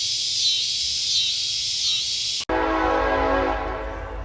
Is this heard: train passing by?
yes